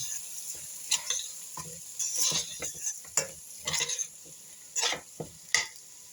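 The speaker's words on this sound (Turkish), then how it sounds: "Hepsini beraber karıştırıyorum." A spoon stirs washed red lentils, rice and bulgur with spices in a pot for a Turkish ezogelin soup, giving irregular scrapes and gritty rustles over a light sizzle, close and fairly quiet.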